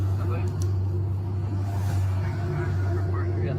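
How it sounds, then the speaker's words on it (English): A V8 bait truck idles slightly high while stopped and surrounded by police, giving a steady, deep exhaust rumble that holds evenly from start to finish at moderate level. "you can hear the sound of the exhaust. The engine may be idling a little high for a V8"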